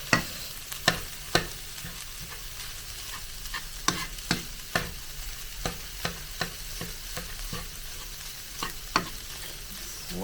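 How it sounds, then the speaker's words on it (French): Diced ham frying in oil in a pan, with a steady, fairly quiet crackling sizzle broken by sharp pops and scraping stirs at irregular intervals, with no voices. "je mets les dés de jambon, comme je vous disais. J'émiette bien tout ça. Je fais revenir."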